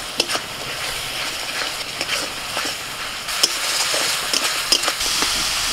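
Tomato frying in oil with turmeric, chili, coriander and cumin powders and salt for an egg omelette curry, stirred in the pan. Steady moderate sizzling is broken by repeated scraping clicks of the spoon.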